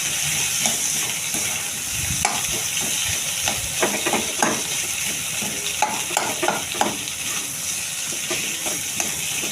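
Boiled potato with turmeric and salt is stirred in a frying pan, a steady sizzle and hiss broken by repeated scraping spoon strokes close up.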